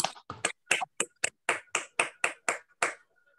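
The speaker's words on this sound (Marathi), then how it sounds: "टाळ्या वाजवून आपण क्षमाताईंच्या कवितेचं कौतुक करूया." An audience at a Marathi poetry reading gives a short round of applause: about a dozen distinct, evenly spaced claps, crisp and fairly close, with no talking over them.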